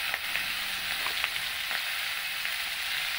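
Garlic with onion and green chilli frying lightly in oil, a soft, even sizzle with faint, scattered pops and crackles, heard close and alone.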